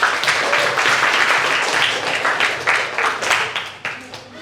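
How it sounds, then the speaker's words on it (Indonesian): Classroom audience clapping together after a call for applause during a school lesson, a dense, steady patter of many hands that lasts several seconds at moderate loudness, with some voices mixed in. "Oke, kasih tepuk tangan."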